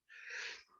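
A single short sneeze, a quick, sharp breathy burst of under a second, heard up close.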